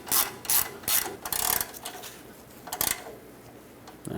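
A ratchet runs down the shock absorber mounting nut on a Ford E-350 front shock, giving several short bursts of rapid clicking with brief pauses between them, close and fairly loud.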